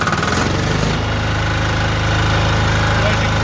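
Timberking 1220 sawmill engine, pull-started with the compression release down, running loud and close in a smooth, even idle throughout.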